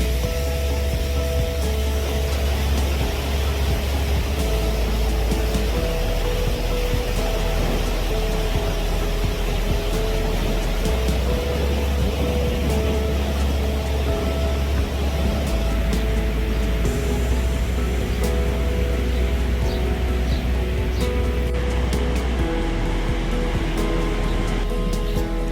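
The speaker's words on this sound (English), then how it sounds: "I can spend all day here just listening to the sounds of the water." Rushing river water at Niagara Falls State Park, flowing downriver toward American Falls, makes a steady, loud broadband roar with no pauses.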